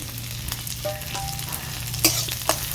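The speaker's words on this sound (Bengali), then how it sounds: "এবার সব কিছু আমি ভালো করে নেড়ে চেড়ে নিচ্ছি" Onions with nigella seeds sizzle in hot oil for a lentil dal while being stirred, giving a close, lively crackle with a few scraping stirs and small pops.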